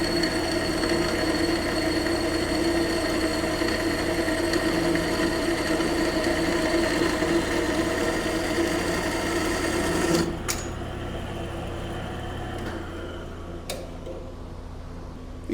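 A saw blade grinds and whirs steadily through a workpiece at a slow feed, a sustained mechanical hum with rhythmic ticking that cuts out abruptly near the end, leaving quieter motor noise and a couple of sharp clicks.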